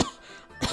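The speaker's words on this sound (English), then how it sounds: "Lavan choked on his tea and started coughing" A character named Lavan coughing after choking on tea in the game Psychedelica, a couple of short, harsh throat-clearing coughs, close and brief.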